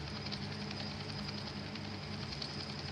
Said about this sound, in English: We're going on a trip in our favorite helicopter going through the skies.